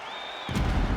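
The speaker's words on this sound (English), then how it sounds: "So the crowd voicing its appreciation after that round" Arena crowd in EA Sports UFC 5 swells into cheering after a round, a sudden broad roar rising halfway through and holding loud to the end, following a thin electronic tone.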